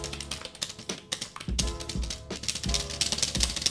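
Typing on a cheap 16-euro plastic membrane gaming keyboard, a steady run of close, soft clattering keystrokes with irregular rhythm and a few brief pauses.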